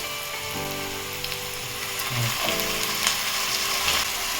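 Continuous sizzling from frying with black pepper powder and soy sauce for a gondhoraj momo dish, a steady hiss with occasional stirring, close and with no voices.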